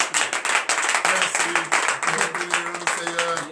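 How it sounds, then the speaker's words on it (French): A church congregation at a Friday morning prayer service in Benin claps rhythmically in acclamation, quick sharp hand claps close by, with a faint sung or spoken voice weaving underneath. "Vous me donnez l'acclamation au Seigneur."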